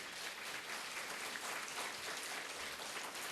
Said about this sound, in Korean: 박수 한번 칩시다. 우리 성가대를 위해서.